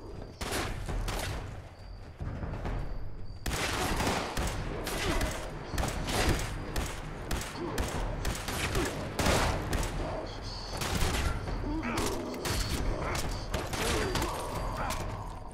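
Dense, loud gunfire from the Fallout 76 video game, rapid overlapping shots and bursts filling the whole stretch, with a voice talking faintly underneath.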